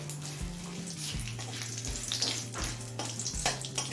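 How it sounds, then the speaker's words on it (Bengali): Whole cumin, a dried chili and bay leaves sizzle and crackle steadily in hot mustard oil, close and continuous over a low background hum. "তেল গরম হলে 1/4 চামচ দিচ্ছি গোটা জিরে, একটা শুকনো লঙ্কা, আর 2টো তেজপাতা।"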